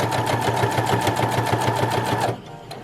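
A sewing machine stitches a reusable fabric face mask with a steady, fast, even whir of needle strokes, close and loud, running alone before stopping abruptly near the end.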